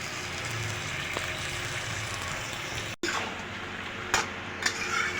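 Rohu fish and cucumber curry frying in a pan, with a soft continuous sizzle, a brief dropout midway, then a few sharp clinks of a utensil against the pan.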